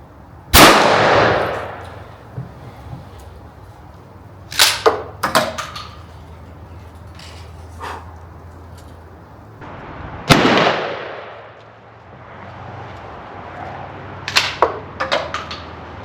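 Winchester Model 120 12 gauge pump shotgun firing Nitro turkey loads, 2 3/4 inch number 4 shot: two loud, sharp blasts about ten seconds apart, each with a long echoing tail, plus a few lighter clanks and knocks in between.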